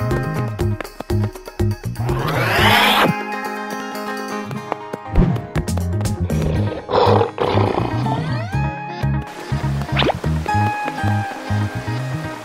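A lion roars repeatedly in a video game, with loud, rising roars layered over cartoonish game music and effects in a busy, shifting mix.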